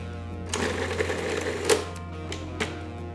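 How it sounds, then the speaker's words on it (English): A food processor pulses serrano peppers, shallots, scallions, garlic and kosher salt in short, close whirring bursts over a steady motor hum. "go right into the food processor with them"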